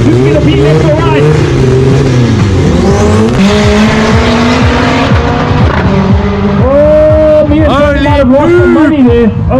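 Drag racing cars launch down the strip in South Africa, engines roaring loud and close with rising revs and tire squeal, while a crowd and an announcer talk over the noise.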